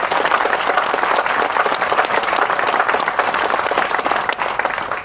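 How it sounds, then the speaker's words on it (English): An outdoor crowd at a Dallas County Freedom Rock dedication applauds painter Bubba Sorensen, dense steady clapping that carries on loud and unbroken throughout. "And we should give Bubba a round of applause for what he did with the Freedom Rock here."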